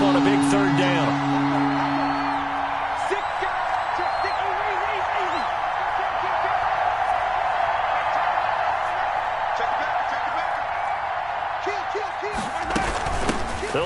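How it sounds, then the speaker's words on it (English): Stadium crowd in a football video game swells with steady cheering and roaring through a big third-down play, a dense continuous wall of noise with commentary voices talking over it. "The crowd getting into it as we come up on a big 3rd down."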